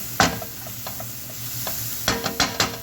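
Meatball stew with potato being stirred in a sizzling pot after curry powder is added, with scattered scraping spoon strokes, a cluster of sharper clacks near the end and a steady frying hiss underneath.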